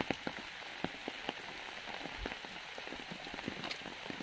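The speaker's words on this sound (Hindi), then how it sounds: "बारिश की हालत देखिए माय गॉड" Heavy rain patters on a surface, with scattered louder drips and splashes popping over the constant hiss.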